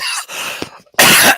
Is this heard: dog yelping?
no